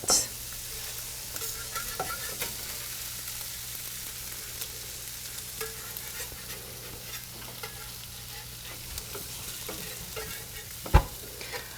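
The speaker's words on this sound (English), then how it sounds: "I'm going to leave them on for another minute to get the onions more translucent" Vegetables and onions sauté in a pan with a low, continuous sizzle, broken by occasional soft stirring scrapes and one sharp clink near the end.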